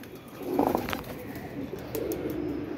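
Soft pigeon coos, a couple of low murmuring calls, faint against outdoor background noise.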